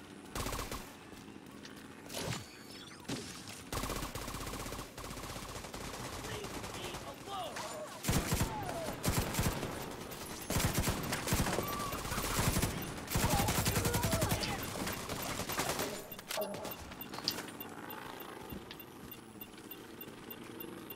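Rapid AK rifle bursts in a video game, repeated loud volleys of gunfire in short clusters, with a voice talking underneath at times.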